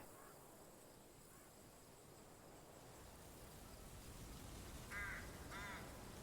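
A crow caws twice in quick succession in the video game The Lord of the Rings: The Battle for Middle-earth II: The Rise of the Witch-king, against a quiet, steady ambient background with faint insect-like hiss.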